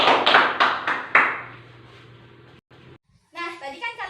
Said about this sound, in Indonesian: Tepuk tangan untuk Mas Ali.